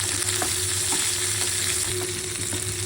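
Shallots and curry leaves sizzle steadily in hot oil as a tempering for horse gram chutney, a continuous close crackle with light stirring scrapes and no voices.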